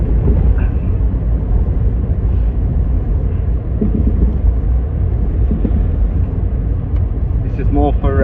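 A 700-plus horsepower Mazda FD RX7 driving along a narrow country lane, a steady low engine drone and road rumble heard from inside the car, with people talking over it.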